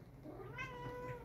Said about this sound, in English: That's my horny cat right here.